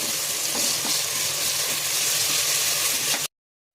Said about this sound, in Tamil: பேஸ்ட்டோட பச்சை வாசனை போகிற வரைக்கும் நல்லா வணக்கி விட்டு அடி பிடிக்காமல் இருக்க அப்பப்போ கிளறி விட்டுட்டே இருங்க